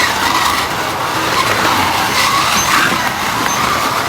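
Scalextric digital slot cars, including a Ford Mondeo and a Nissan GTR, race around a track with a continuous loud whirring, buzzing roar of small electric motors, steady and close throughout.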